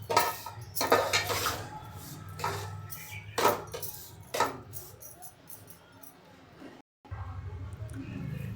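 Rava and dried copra are fried in a pan for laddus, with repeated metallic scrapes and clinks of a spatula stirring against the pan over a low background hum.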